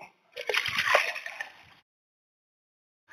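A litre of water sloshes and splashes in a mug, measured out for mixing a foliar fertiliser spray for vegetables: one close, busy burst of about a second and a half, then silence.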